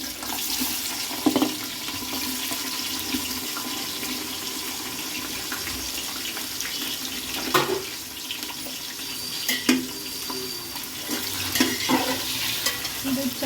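Chopped onions, three of them, frying in a pan for chicken biryani, with a steady hiss and a few sharp stirring scrapes spaced through it; no talking.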